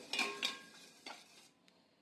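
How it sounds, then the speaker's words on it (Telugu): A beater mixes oil into semolina cake batter in a bowl, making two quick clinking, scraping strokes, then a third. Fainter taps follow, and the clip ends quiet. "దాంట్లోకి పావు కప్పు ఆయిల్ వేసుకొని కలుపుకోవాలి బీటర్తో బాగా బీట్ చేసుకొని కలుపుకోవాలి"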